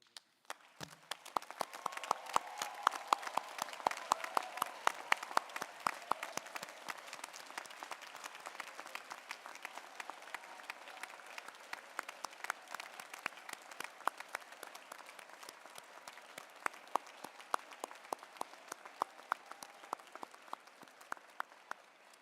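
Graduates at the Medical College of Wisconsin 2022 commencement in Milwaukee applaud their standing families, a long, steady wash of many hands clapping in a large hall, somewhat distant and sustained throughout.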